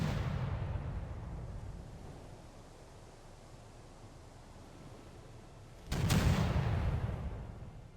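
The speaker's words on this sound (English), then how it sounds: "we are taking some serious fire here" A heavy naval shell strikes a warship in Victory At Sea Atlantic, a deep booming impact that rumbles away, followed several seconds later by a second loud, sudden blast that rolls out slowly.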